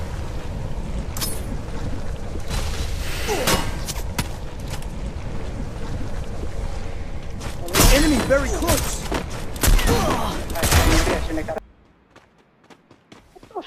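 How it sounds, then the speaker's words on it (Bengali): Sniper rifle shots in the video game Free Fire, heard as a few sharp loud bursts amid busy game noise and sound effects, with a voice speaking over parts, before the sound drops to near silence at the end. "চলুন একবার তার স্নাইপার চালানোটা দেখে আসি।"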